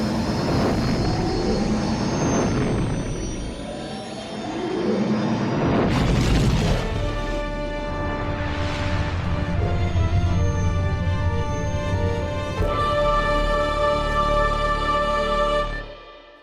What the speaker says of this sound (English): We are ready to make the jump to hyperspace.